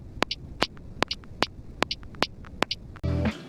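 Soft hi-hats in a lo-fi beat play a quintuplet swing over a metronome's steady clicks, with lighter hat hits falling just after each beat, close and quiet above a faint hiss, before a louder burst at the end.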